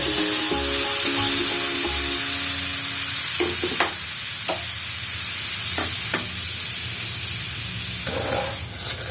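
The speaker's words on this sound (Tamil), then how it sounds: "மில்க் ஆட் பண்ணி இந்த மாதிரி கிளறி விட்டுக்கிட்டே இருங்க" Sugar and milk stirred together in a hot pan, a loud close hissing sizzle with scraping strokes of the spoon and a few distinct clicks, easing slightly toward the end.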